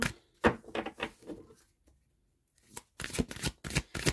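Tarot cards are shuffled by hand in quick riffling bursts, a cluster of papery flutters, a brief pause, then another rapid run of crisp shuffles, close and clear with no talk.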